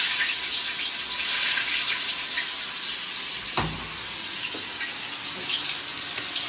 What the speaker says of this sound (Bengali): এবার ওই কড়ার মধ্যে আরেকটু তেল দিয়ে দিচ্ছি আদা বাটা